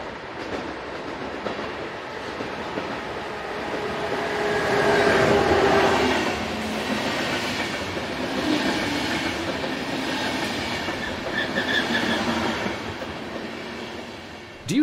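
A passenger train from Nuremberg to Hamburg rolls into a station behind electric locomotive 101013, a steady rumble of wheels on rails with a brief rise in noise and faint squeals, heard from the platform.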